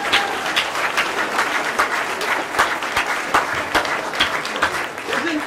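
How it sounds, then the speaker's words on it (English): An audience at a toast-and-roast event bursts into steady, enthusiastic applause, a dense wash of clapping that holds throughout, with a few voices faintly mixed in. "give a big, enthusiastic round of applause to Sue Burrows"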